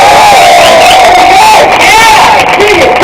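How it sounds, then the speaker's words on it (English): Stand-up comedy audience at Benton Station cheering and whooping in a loud, continuous crowd roar, with yells rising over the noise. "Can I have a round of applause for everybody?"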